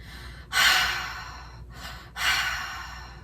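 A person imitates heavy panting close up: two long, breathy huffs separated by a short pause, loud and rasping with no talking.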